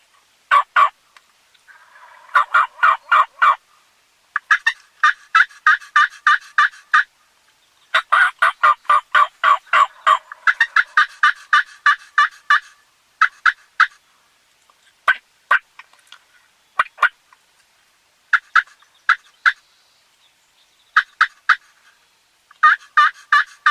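In a Minnesota spring woodland, wild turkeys let out repeated bursts of rapid gobbling while a live hen calls among them, all clear and fairly close with quiet gaps between calls.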